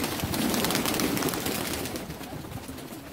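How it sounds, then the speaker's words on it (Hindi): Pigeons cooing close by, a soft continuous murmur of calls over a steady background hiss, fading slightly toward the end. "ये है जी कबूतर"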